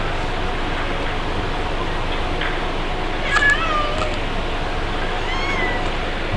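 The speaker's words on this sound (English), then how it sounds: "Oh geez, the kitty's meowing." A house cat meowing a few short times, faint and brief, over a steady loud background hiss of room and recording noise, with no talking.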